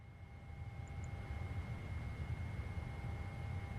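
A simulated British Airways Boeing 777-200ER from PMDG takes off in MSFS 2024. Its engines give a steady, dense roar with faint high whines held throughout, and no voices.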